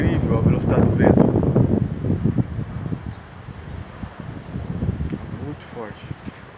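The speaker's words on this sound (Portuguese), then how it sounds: "Incrível a velocidade do vento." Strong gusting wind of an approaching storm in Presidente Prudente roars steadily into the microphone, with a whistling hiss from a nearby tower, while a person speaks over the first half.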